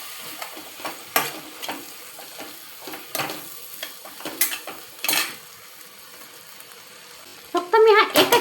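Soaked poha is stirred into a sizzling potato mixture in a pan, a spatula scraping and tapping the metal in uneven strokes over a soft frying hiss, ending with a louder burst of clattering; a voice talks quietly alongside.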